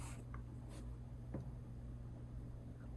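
A few faint, soft strokes, likely pencil or brush, sketch the placement of a handle for a drawing, scattered sparsely over steady background hiss.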